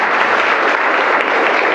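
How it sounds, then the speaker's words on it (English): Steady, loud applause from a crowd of wedding ceremony guests, clapping for the two mothers, continues evenly throughout with no talking. "give the 2 moms a big round of applause"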